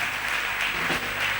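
A church congregation applauding and cheering at a testimony service, a dense steady roar of clapping and voices filling the room, loud and continuous throughout.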